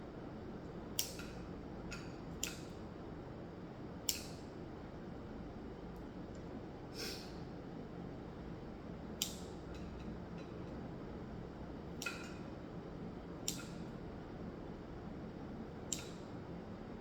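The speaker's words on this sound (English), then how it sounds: "I will de-seed the dates by cutting them and removing the seed that's inside" A knife cuts into dates to pull out their seeds, giving sparse sharp clicks and taps every second or two, faint against a quiet steady background hiss.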